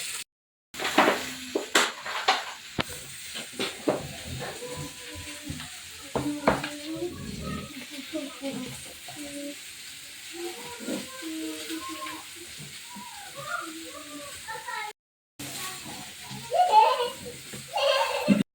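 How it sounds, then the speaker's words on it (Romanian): Skewers frying in a pan give a continuous soft sizzle, stirred now and then with scraping and clinking of utensils, while people talk and a voice and light laughter come in at times. "Prăjim frigăruia"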